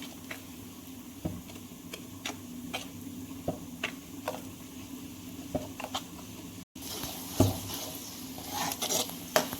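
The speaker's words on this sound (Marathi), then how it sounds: "आता आम्ही फास्ट गॅसवरती बेस भुजून घेऊ मसाल्याला." A masala base for prawn curry roasts in a pan on a gas stove over a high flame, with steady spatula clicks and scrapes against the pan over a soft sizzle and no speech.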